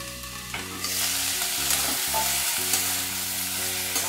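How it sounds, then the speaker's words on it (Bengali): Potato, cauliflower and other vegetables fry in a covered pan, giving a steady soft sizzle that swells after the first moment and runs throughout, with quiet tonal music underneath. "একটু ঢাকা দিয়ে আমি সবজিগুলো ভেজে নিচ্ছি।"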